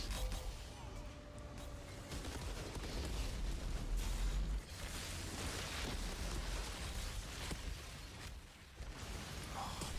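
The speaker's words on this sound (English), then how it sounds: "Man, got so many explosions there." Explosions rumble and crack in the sci-fi shooter Outriders, a dense run of deep blasts and debris over continuous loud game noise.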